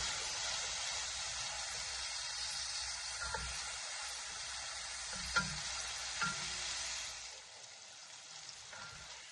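Hot crushed pepper cooks in a pan with a steady, soft hissing sizzle and a couple of faint stirring knocks, quiet and even before the sound drops away near the end.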